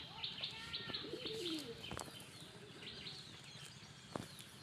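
Pigeons gather to feed, with soft repeated cooing, light chirps and occasional wing flaps, all faint and close-by over a low murmur of background noise.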